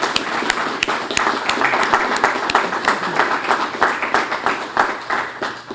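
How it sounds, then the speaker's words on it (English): Audience applause at an outdoor ribbon-cutting ceremony for a plumbing supply business, moderate, steady clapping from a modest crowd with distinct individual claps standing out, lasting several seconds without speech. "I wish you'd join me in giving them all a round of applause"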